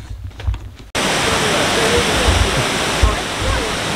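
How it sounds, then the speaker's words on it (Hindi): The fourth waterfall on a walk in the Brecon Beacons, Wales, a steady loud roar of falling water that starts abruptly after a second of quieter ambience with faint voices. "तो गाइस ये है द फोर्थ वाटरफॉल"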